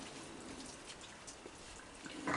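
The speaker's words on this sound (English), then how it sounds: "Oh, it's raining." Light rain begins to fall outdoors on a Friday night where raccoons are being fed, a faint, steady patter of drops that grows slightly louder near the end.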